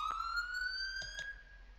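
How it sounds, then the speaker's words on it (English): A fire engine siren in the Roblox game Kenterbury Fire and Rescue wails as a single steady rising tone, clear and moderately loud, with a couple of faint clicks over it. "or you can press R to turn the siren on"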